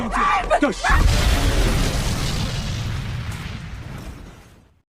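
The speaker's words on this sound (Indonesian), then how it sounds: "Sehingga pada akhirnya mobil itu pun meledak." A car bomb explodes with a loud, deep boom after a brief moment of voices, then a long rumbling roar that slowly fades away.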